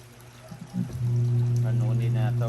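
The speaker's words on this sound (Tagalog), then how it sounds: "para mabango yung damit natin, lagyan ng fabric conditioner." Fabric conditioner glugging from a bottle onto laundry, starting with a few splashes before settling into a steady close pour, with a voice speaking over the end.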